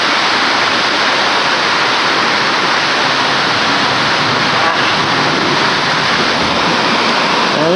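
Heavy rain pours down outdoors in a loud, constant roar of broadband noise that stays even and close throughout, with no voices.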